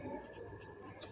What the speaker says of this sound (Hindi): मैं जल्दी लिख रहा हूँ